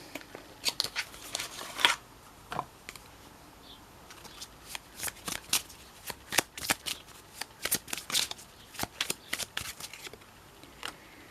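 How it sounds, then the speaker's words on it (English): Tarot cards being shuffled by hand, a quiet series of soft riffling flicks and slaps in irregular clusters, close and alone without talk. "So let me draw another card for you."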